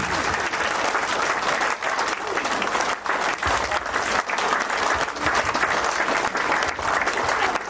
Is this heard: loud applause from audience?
yes